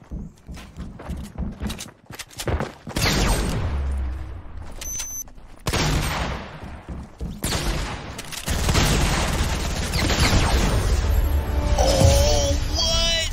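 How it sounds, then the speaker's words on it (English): A heavy shotgun blast in a shooter video game, a loud sharp report amid busy gameplay noise with clattering footsteps and other effects, while players talk over much of it. "I think I freaking killed 2 of them with 1 heavy shotgun shot."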